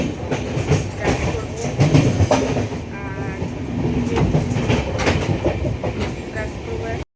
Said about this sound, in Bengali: তো এখন এই যে ট্রেনে আছি